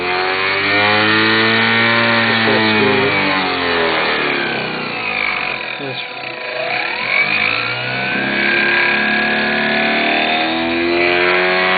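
An electric motor on a motor controller spins near full speed, its whine sweeping up and down in pitch, dipping briefly midway before climbing again, loud and alone.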